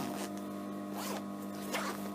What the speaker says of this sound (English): then open the zip